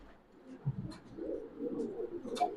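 Black King pigeons at a pigeon farm give low, soft cooing calls, with a few brief higher chirps, close by and moderately loud.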